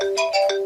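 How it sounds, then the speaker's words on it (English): The classic iPhone ringtone, unchanged since 2013, plays loud and close as a quick run of bright, bell-like notes repeating in a steady rhythm. "the iPhone has had the same old ringtone since"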